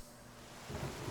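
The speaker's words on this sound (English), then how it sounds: "A shit ton of rain." Heavy rain with rolling thunder in a memory scene from the video game Breath of the Wild: a steady, dense wash of downpour that swells louder near the end, with no voices.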